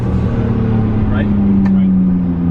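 A tuned Nissan Skyline engine runs on partial throttle with a steady, low chugging drone, while a voice is heard over it.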